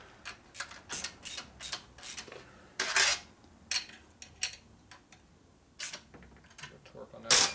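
A wrench ratchets while torquing bolts on a Shovelhead Harley engine's Timken main bearing, giving a series of short, sharp clicking bursts in quick succession, close and distinct, with small pauses between pulls.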